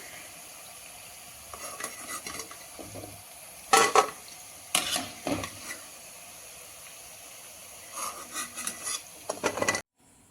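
Seepu seedai, a sweet made from wheat flour dough, deep-frying in hot oil, a soft steady sizzle broken by louder hissing bursts and scraping stirs, close by, with no talk.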